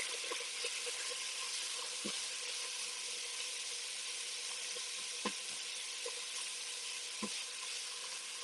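Onions sizzle steadily in a pot for a vegan pasta bolognese, a constant broadband frying hiss with a few sharp clicks and knocks of the spoon against the pot scattered through it.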